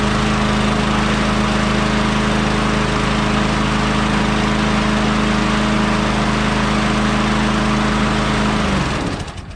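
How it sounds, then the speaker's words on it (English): A Tecumseh 5 HP engine on a Troy-Bilt lawn vacuum wood chipper runs from a cold start with an auto choke, giving a loud, steady, close, buzzing drone that cuts out near the end. "So, cold start. It's an auto choke, so it should just start."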